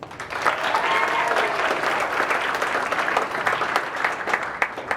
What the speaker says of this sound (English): let's have a warm round of applause for our second presenter of the night, Tendent.